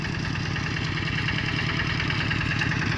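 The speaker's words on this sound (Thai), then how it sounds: "กำลังขับรถไถ" Farm tractor engine running steadily at close range, a continuous loud rumble with a rhythmic low-pitched chugging and no voices.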